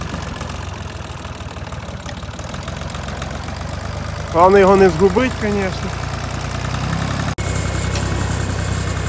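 Tractor engine idling and towing a straw bale on an old truck hood through snow, a steady close mechanical rumble throughout, with someone speaking over it midway and a brief sharp drop near the end.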